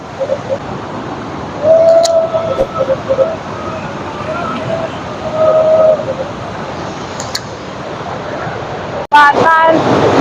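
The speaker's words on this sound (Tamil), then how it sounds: "இதுல வந்து அருவி தாங்க, மூளையார் அருவி. செம்ம ஸ்பீடா போயிட்டு இருக்கு." The Mooliyar waterfall in a Kodaikanal forest, flowing fast, gives a steady, broad rush of falling water that roars throughout, with people talking over it and a brief clatter near the end.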